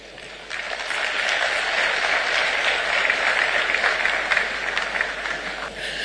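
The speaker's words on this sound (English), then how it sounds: "Another round of applause for Honorable Alex Segbefia" Audience at the John Evans Atta Mills Memorial Lecture breaking into applause for Alex Segbefia, clapping that swells after a brief pause and stays full and steady for several seconds.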